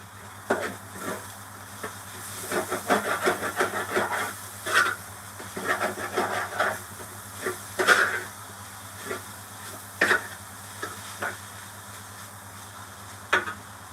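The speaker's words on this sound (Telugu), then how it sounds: "తోటకూర ఫ్రై చేస్తున్నా" Amaranth leaves frying in a pan, soft sizzling under a series of scraping stirs and clinks that come in bursts, then grow sparse and quiet toward the end.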